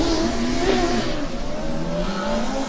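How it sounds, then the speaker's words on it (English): A Formula Student race car slides through an autocross course near a horseshoe turn, its engine droning loud and steady with tire noise throughout, close by and with no talking. "big slide for the Regensburg car, just before the horseshoe"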